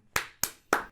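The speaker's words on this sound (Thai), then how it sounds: "เสียงซานต้าแก้มก้นกระทบกัน" Three sharp, fleshy slaps of buttocks in a video game, in quick, even succession, close and dry with nothing else around them.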